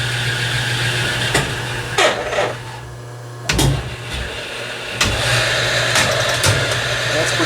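A metal lathe spins while turning a spindle, giving a steady low machine hum broken by several short bursts of louder whirring and clatter, with occasional knocks.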